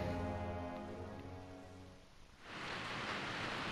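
Steady rain hiss from a video game cutscene, first under a sustained low tonal drone, then swelling into a broad, loud rush of rainfall after the music fades.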